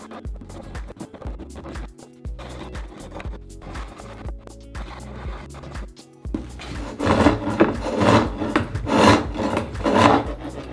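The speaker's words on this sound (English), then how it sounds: "I genuinely only used a hand plane and a spoke shave and a little bit of a rasp shaping the neck" A hand rasp scrapes along a wooden electric bass neck that has carbon fiber rods and a truss rod, in steady repeated strokes, close and alone, growing harsher and louder toward the end.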